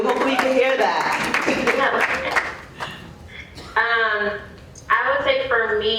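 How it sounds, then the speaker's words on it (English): An audience at a panel discussion claps for a speaker, a moderate round of applause that tapers off as people start talking over it. "They're clapping for you."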